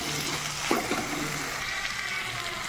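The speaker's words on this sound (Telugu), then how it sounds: "కొంచెం వాటర్ పోసేసుకున్నామండి" Water is poured into a pan of beans and tomato curry frying on the stove, a brief splash and gurgle over a continuous soft sizzle, with no talking.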